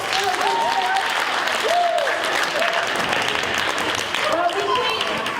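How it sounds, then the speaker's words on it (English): Audience applause at a school road show event, sustained dense clapping from a crowd throughout, loud and steady with a few voices calling out underneath. "let's give them another round of applause"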